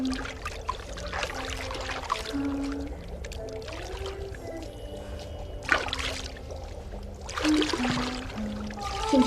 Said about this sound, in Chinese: 姐姐给你冲水啊。